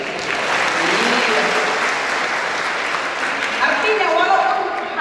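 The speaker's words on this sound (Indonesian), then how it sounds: "Jadi kalau kami katakan kita aplaus, siswa lah yang aplaus." Students at a school farewell event for Class XII at SMA Negeri 1 Telukdalam clap together in steady, sustained applause from a crowd, with a voice speaking over it toward the end.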